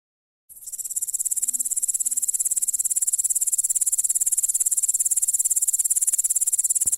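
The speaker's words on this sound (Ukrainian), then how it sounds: "Ось знайомтесь, коник стрибунець. Ви знаєте, як він стрикоче?" A grasshopper chirps nearby in a fast, continuous high-pitched buzzing trill that starts abruptly and keeps going steadily.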